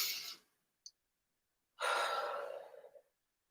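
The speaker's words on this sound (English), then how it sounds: "We'll do a couple of nice big deep breaths" Slow, deep breaths during a gentle exercise session, a long exhale, a short pause with a tiny click, then a strong breath lasting over a second, close and soft.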